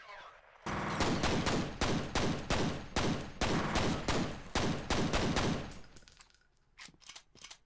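Rapid, loud gunfire from two guns fired akimbo in the video game F.E.A.R., a steady stream of sharp shots lasting several seconds before thinning into a few isolated bursts.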